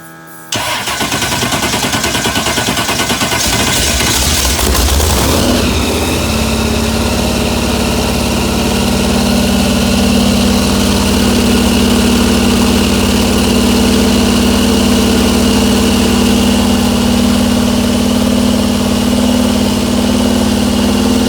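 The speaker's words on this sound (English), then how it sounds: "we got a jet boat to start" A large jet boat engine cranks over, catches, then settles into a loud, steady idle with a deep, even rumble.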